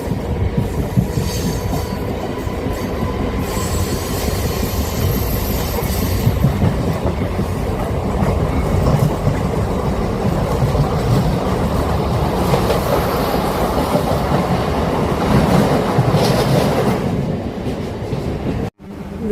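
Local train running from Attipattu Pudhu Nagar to Avadi, a steady loud rumble of wheels on rails with faint squeals, continuous for the whole stretch until a brief sharp knock near the end.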